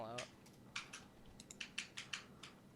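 Keys clatter on a computer keyboard in quick, uneven bursts of light clicks, close and moderately loud, with a voice heard briefly at the start.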